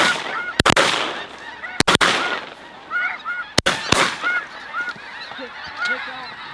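A flock of snow geese (blue geese) honks loudly in overlapping calls at a hunt, broken by several sharp gunshots near the start and middle, with no talk.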